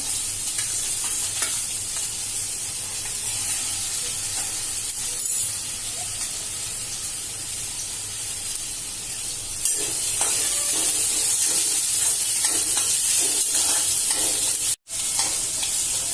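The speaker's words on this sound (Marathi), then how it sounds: "हे बघा स्लो गॅसवर आपण भाज्या चांगल्या शिजवतोय" Chilli, capsicum, onion and carrot sauté on a low gas flame for chicken manchow soup, giving a continuous gentle sizzle with intermittent stirring scrapes and a brief spurt of louder hissing toward the end.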